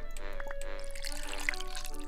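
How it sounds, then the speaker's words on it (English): A drink is poured in the game Jazzpunk, short liquid drips and a gurgling trickle over a sustained musical hum. "Pour me a drink."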